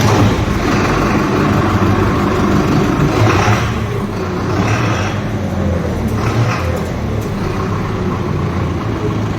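A Farmtrac 6055 CRDI tractor's diesel engine runs steadily and loud at close range, a continuous low rumble throughout with no talk over it.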